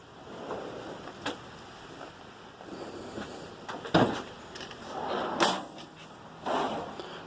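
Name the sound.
Snap-on tool box drawer opening and closing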